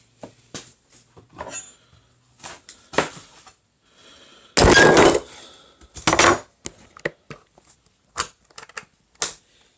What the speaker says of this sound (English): Sorry, my camera fell.